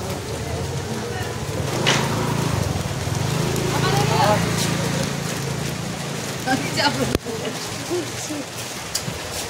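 Heavy rain falling around a Durga Puja pandal, a steady wash of downpour with scattered knocks and clatters, while people talk over it.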